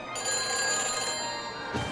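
An in-game telephone rings at a phone booth in the Back to the Future video game, a steady electronic ring sounding clearly for about two seconds with no talk over it.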